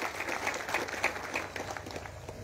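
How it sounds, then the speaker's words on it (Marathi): At a political rally, the crowd claps to welcome newly joined party workers: a brief, moderately distant patter of many hands. "टाळ्या वाजवून त्यांचं आपण या ठिकाणी स्वागत करा."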